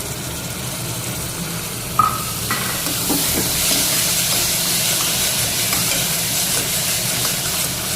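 Onions fry with tomato added in a pan for a homemade dal, giving a steady loud sizzle and hiss with occasional scraping and clinking of a spoon stirring, close up and without talk.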